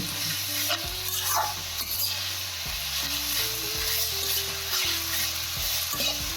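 Grated bottle gourd for halwa sautéing in a hot pan, with steady stirring scrapes and an even frying sizzle throughout, several distinct spoon strokes over a continuous hiss, close and loud with no talking.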